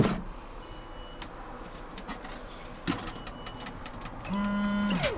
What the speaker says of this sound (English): Now fresh water pump